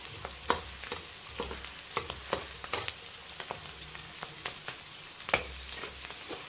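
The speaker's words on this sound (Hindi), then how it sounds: "अब हमारी ऑनियन अच्छे से फ्राई हो चुकी है" Onions fry in a pan with a steady, soft sizzle broken by repeated light scrapes and clicks of stirring, heard close up and alone.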